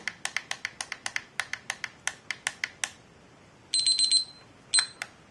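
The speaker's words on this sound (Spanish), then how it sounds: "veis cómo suena la alarma" A rapid run of sharp electronic beeps, then short bursts of high-pitched alarm tones after a pause, from an Avantek kitchen cooking thermometer's temperature alarm, close and clear with no talking.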